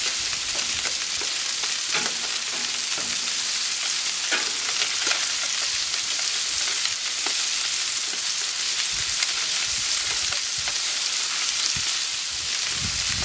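Polenta sizzles steadily in a hot frying pan, with a continuous bright crackle broken by occasional scrapes and clicks of a utensil. No voices are heard.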